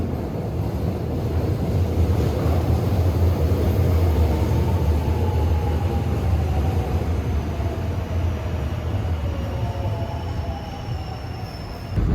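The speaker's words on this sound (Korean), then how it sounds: "다행히 지하철이 있네요" A subway train runs at speed with a loud, continuous rumble and roar, wheels squealing in thin rising tones over the top, heard from inside the car with no talking.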